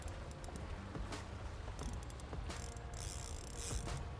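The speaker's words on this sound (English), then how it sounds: "back the drag off a little bit now" A fishing reel's drag clicks in a rapid, steady ratcheting run while a snook is fought on the line, close and continuous for about four seconds over outdoor background noise.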